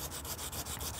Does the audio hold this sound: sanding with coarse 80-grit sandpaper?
yes